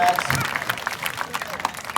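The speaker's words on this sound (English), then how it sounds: "How about a big round of applause for Matt?" A crowd at a wildlife sanctuary show applauds a presenter named Matt, and the scattered clapping is mixed with voices and crowd noise over a brief moment.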